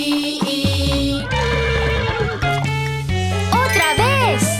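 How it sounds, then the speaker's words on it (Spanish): A horse whinnies in a rising and falling neigh near the end, set within a bright children's animal-sounds song with bouncy music and jingling accents. "El caballo i i i i i."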